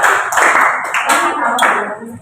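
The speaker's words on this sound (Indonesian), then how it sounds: "Oke, bagus tepuk tangan semuanya" Junior high students in a classroom clapping together on a teacher's cue: a short, dense patter of many hands lasting about two seconds, close and fairly loud.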